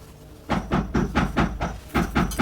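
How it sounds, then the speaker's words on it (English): Someone walking outside makes steady, evenly spaced thuds, about four per second, close and fairly loud, like hurried footsteps on a hard floor, with no voices. "Please ignore the noise. Somebody is walking outside there."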